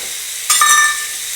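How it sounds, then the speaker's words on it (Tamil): Curry leaves hit hot oil while tempering a drumstick sambar, setting off a sudden sharp sizzle. The sizzle is close and loud, then settles into a softer crackle within about a second. "கடைசியாக கருவேப்பிலை போட்டுக்கிறேன்."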